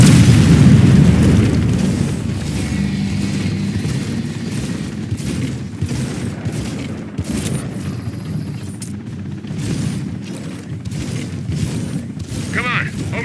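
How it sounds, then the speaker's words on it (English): Airstrike blasts in Gears of War 4 open with a heavy boom that rumbles and fades, then give way to scattered debris crackles and mechanical clatter over a dense game soundscape. "Airstrike incoming."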